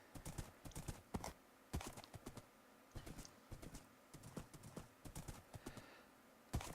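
Horse hooves clip-clop in the Minecraft video game, a quick irregular run of soft hollow footfalls that repeats steadily and sits close and fairly quiet, with no talk over it.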